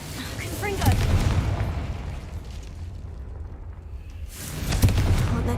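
In the video game Hogwarts Legacy the Confringo blasting spell sets off deep booming explosions, one near the start and another at the end, with a low rumble in between.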